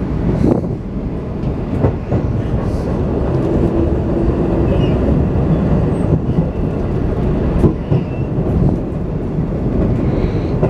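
Steady low rumble of a V/Line train pulling into a station, with faint rhythmic clacks and a brief squeal, continuous and fairly loud, no voices.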